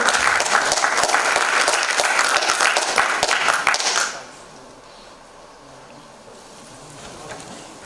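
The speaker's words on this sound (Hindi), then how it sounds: "प्लीज एक बार दो तालियां हो जाए सर के लिए।" An audience at a computer centre farewell gathering applauds a guest, a dense, even burst of clapping lasting about four seconds before stopping abruptly into quiet room tone.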